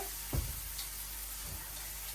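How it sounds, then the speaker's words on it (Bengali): Potatoes seasoned with salt fry in a pan with a steady, close broadband sizzle, broken by a brief low knock or stir near the start. "লবণ দিয়ে আলুটাকে ভেজে নেই তারপরে হলুদ দিয়ে দিন"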